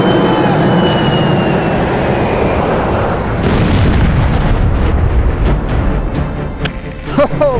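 Explosions boom in the Halo Custom Edition game as a dense, loud roar of blasts fills the first half, then thins into scattered sharp cracks and bursts.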